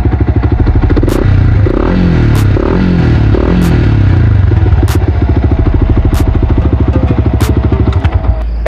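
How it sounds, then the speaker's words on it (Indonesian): A Yamaha Vixion motorcycle with a modified stock exhaust revs up close, a loud throbbing engine that rises and falls through several throttle blips over a steady rapid putter, with sharp clicks recurring throughout. "Saya geber suaranya."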